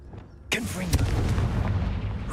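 A Confringo fire spell bursts in Hogwarts Legacy, a sudden loud booming blast after a quiet moment, followed by a crackling, rumbling tail that lingers to the end.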